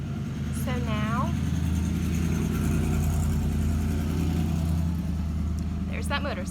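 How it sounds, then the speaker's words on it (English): A steady engine rumble of a passing motorcycle, loud and sustained, with brief bursts of talking at the start and end. "there's that motorcycle I was talking about"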